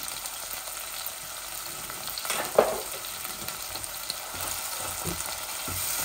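Crushed garlic and garlic powder frying in oil, a close, even sizzle with a brief louder crackle and stir near the middle, then continuing quietly on its own.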